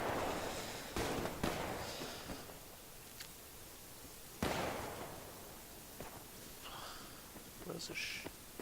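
Scattered gunshots in the Survarium video game, two sharp cracks several seconds apart with fainter pops around them, distant and quiet under a steady hiss.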